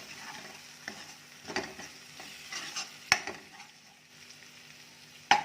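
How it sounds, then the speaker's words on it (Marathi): Kolhapuri onion-garlic chutney masala with a pinch of turmeric being sautéed in hot oil, a soft steady sizzle under repeated spoon scrapes and stirs, with a couple of sharper metallic taps against the pan. "मी दोन चमचे कोल्हापुरी कांदा लसूण चटणी म्हणजेच कोल्हापुरी मसाला टाकते तेला छान परतून घेऊया"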